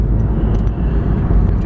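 A 2011 Honda CR-Z hybrid pulls away under acceleration, a steady low engine and road drone heard from inside the car, fairly loud and continuous without talk.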